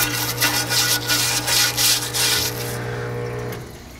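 Rapid back-and-forth scrubbing on the outside of a Honda K-series engine valve cover, close and steady with rhythmic brush strokes for about three seconds before fading to a quieter hiss.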